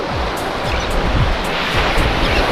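Ocean waves wash ashore on a Florida beach at low tide, a loud steady surf roar with rhythmic swells breaking every half second or so, mixed with wind buffeting the microphone.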